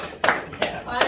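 Hands clap in a few loud, uneven bursts at a county commissioners meeting, with voices murmuring underneath.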